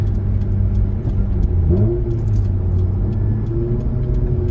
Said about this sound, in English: That looks like an Rx8 to me.